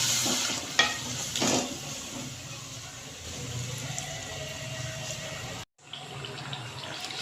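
Chicken karahi frying over high flame with green chili and coriander paste, a continuous sizzle with a few sharp stirring clacks and a brief gap near the end, close and fairly quiet.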